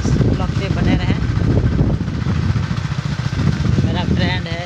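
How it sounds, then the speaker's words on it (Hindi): A motorcycle ridden along a hilly village road, its engine droning steadily and close throughout with wind buffeting, while voices talk over it. "छोटा भाई बाइक चला रहा है।"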